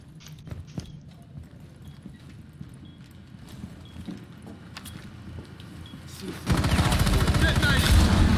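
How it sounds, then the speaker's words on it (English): Heavy gunfire in a Rainbow Six Siege match, a dense sustained volley that swells loudly near the end after scattered sharper shots and low rumble. "Doc is taking a lot of fire through the roof."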